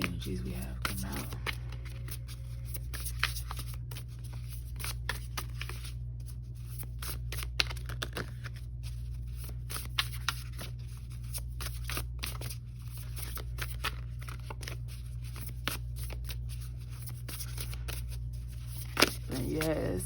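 Oracle cards are shuffled over and over in quick, papery riffles and flicks, a soft continuous texture with occasional sharper snaps and a low steady hum beneath.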